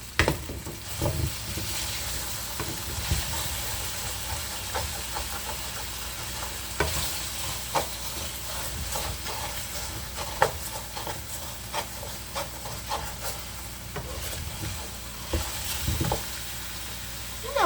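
Quartered white potatoes sauté in a hot pan for Peperonata Calabrese, a steady close sizzle with frequent scraping stirs and occasional clacks of utensil on pan throughout, no talk.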